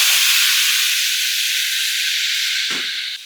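Loud, steady sizzling hiss of a spoonful of water hitting a hot steel pan, easing off slightly toward the end.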